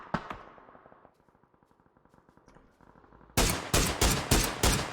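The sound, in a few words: gunfire in the video game PUBG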